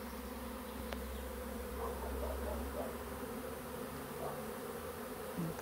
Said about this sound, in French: Donc revenons à notre petit essaimage qui est quand même pas mal conséquent.